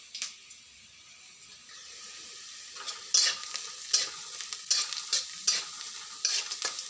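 Onions frying in a pan, with a steady soft sizzle and a run of sharp spatula scrapes and stirring clicks that grow louder and more frequent toward the end, no voices.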